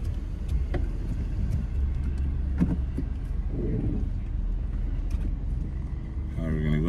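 A car driving along during a Florida driving test: a steady low engine and road rumble under the cabin, with people talking over it.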